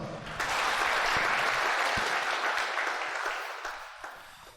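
A live audience at a Buddhist dharma talk breaks into sustained, dense applause that starts abruptly, holds steady for several seconds, then gradually thins and fades.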